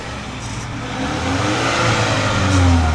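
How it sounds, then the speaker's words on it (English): A 2019 Mini Cooper Clubman S engine idles low, then revs up and holds a deeper, louder rumble from its dual exhaust, close by. "It's got a nice dual exhaust coming out the back."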